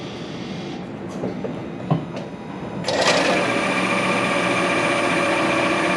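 A Toyota RAV4 Hybrid engine starts up about halfway through, after some faint clicks and knocks, then settles into a steady, loud, even running hum that continues to the end.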